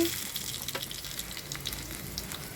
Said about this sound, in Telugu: ఇప్పుడు తాలింపుకి ఆయిల్ పెట్టాను ఆవాలు జీలకర్ర వెల్లుల్లిపాయ కరివేపాకు ఎండుమిర్చి అలాగే చివరిగా ఇంగువ వేసానండి